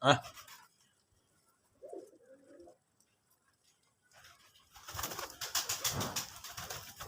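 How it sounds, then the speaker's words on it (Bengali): A short burst of cooing from a pigeon, then quiet, a soft low coo, and later a louder stretch of rapid throaty cooing and fluttering sounds. "দেশের কবুতর ডাক দেখেন, সাউন্ড কি থাকে ওই দেখেন"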